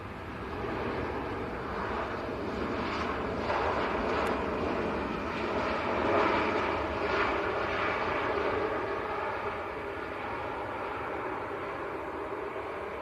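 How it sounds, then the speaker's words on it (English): An EasyJet airliner from Belfast at Manchester Airport gives off a sustained, fairly loud jet-engine rumble that swells slightly in the middle and stays steady throughout, with no talking. "That was EasyJet from Belfast."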